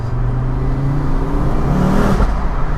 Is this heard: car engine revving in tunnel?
yes